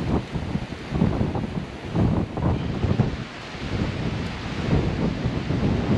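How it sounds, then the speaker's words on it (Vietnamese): Wind gusts across Ba Thê mountain at Thoại Sơn, An Giang, blowing through the trees in a continuous roar that swells and eases, near the microphone with buffeting, with no talk. "Ôi trên đây gió kìa."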